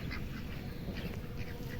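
Several ducks quacking at a moderate distance, repeated nasal calls over a low outdoor rumble.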